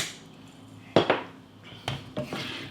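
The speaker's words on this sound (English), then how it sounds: "Yes, we mix in spaghetti" Metal utensils clink and scrape against a pan as spaghetti for carbonara is tossed with egg and black pepper, a few sharp knocks standing out over quiet background noise.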